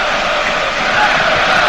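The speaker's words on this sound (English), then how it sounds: "as you can hear, the home crowd are optimistic" Home football crowd at Cardiff City Stadium, a broad, steady wash of massed voices and noise from the stands, loud and continuous through a match in progress, with a faint voice over the top.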